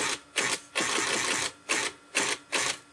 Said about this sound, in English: I'll advance the paper a little bit